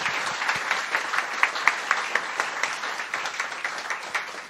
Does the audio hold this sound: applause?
yes